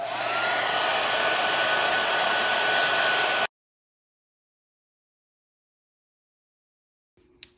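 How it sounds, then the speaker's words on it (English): A hair dryer runs on high with the cool setting, a loud steady whirring blow for about three and a half seconds that cuts off abruptly, followed by silence and a faint brief noise at the end. "I'm gonna set the hair dryer on high, but I'm gonna put it on the cool so it doesn't burn my hand."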